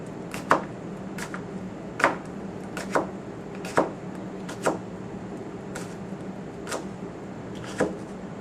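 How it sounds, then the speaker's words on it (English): Knife slicing through a raw potato on a cutting board, a series of about ten sharp, separate cuts at an uneven pace, close and fairly clear over a low steady background hum. "I'm going to slice against my fingers so I can feel how big I'm making my slices"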